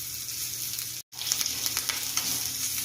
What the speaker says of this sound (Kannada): ನಾನಿಲ್ಲೊಂದು ಒಗ್ಗರಣೆ ಮಾಡ್ಕೊತಾ ಇದ್ದೀನಿ. ಸಾಸಿವೆ, ಜೀರಿಗೆ, ಒಣಮೆಣಸಿನ್ಕಾಯಿ, ಹಸಿಮೆಣಸಿನ್ಕಾಯಿ, ಸ್ವಲ್ಪ ಇಂಗು ಹಾಕಿ